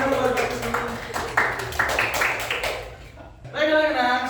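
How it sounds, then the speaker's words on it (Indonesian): A classroom of students claps in a short, rhythmic burst for their teacher during a micro-teaching lesson, the claps mixed with voices talking over and after them. "Tepuk tangan dulu buat Bapak semua."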